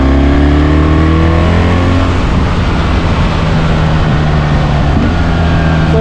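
A BMW R1300GS motorcycle with automatic transmission accelerates from fifth gear and downshifts on its own, its engine droning loud and close with a steady rising tone throughout; no talking.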